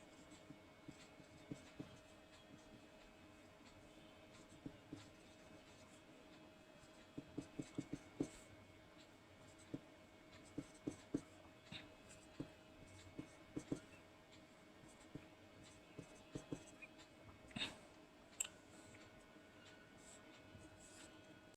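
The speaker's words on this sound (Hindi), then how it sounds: "यहाँ पर मैं फटाफट सबकी लॉग वैल्यू लिख रहा हूँ।" Pen scratching steadily across paper while log values are written out by hand for a geometric mean index number calculation, with short taps and strokes throughout; quiet and close, no voices.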